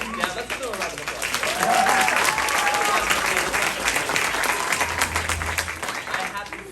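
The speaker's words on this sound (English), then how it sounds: "let's do a round of applause" Sustained applause from an audience at a school production of Matilda, steady and full, with a few voices and cheers mixed in under the clapping.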